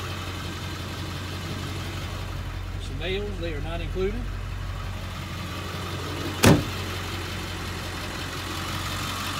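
A 2001 Ford F350 Super Duty with a 7.3 Power Stroke diesel idles in a steady low drone while someone speaks briefly over it, and a sharp short knock sounds near the end.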